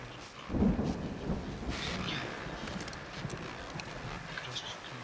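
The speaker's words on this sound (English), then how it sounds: "that storm we all felt coming is finally here" Thunderstorm in the video game Alan Wake, with a close thunder crack and rumble near the start over steady rain and rolling low noise, and a voice talking through part of it.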